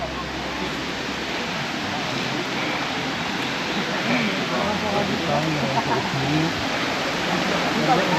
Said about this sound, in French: au pied des cascades de Roquefort.